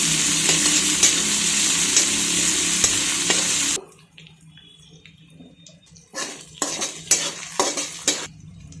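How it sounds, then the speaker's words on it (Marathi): Crushed ingredients hit hot oil in a heated kadhai with a loud, steady sizzle, then after a pause come clinking spoon strokes and scraping as the mixture is stirred. "कढई तापलेली आहे आणि तेल टाकून घेऊयात आपण। याच्यामध्ये हे जे ठेचून घेतलं ना ते टाकून घेऊयात आपण।"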